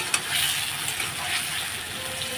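Cumin powder sautéing in hot oil in a pan for a rohu fish curry, a steady, fairly close sizzle with a few faint clicks scattered through it.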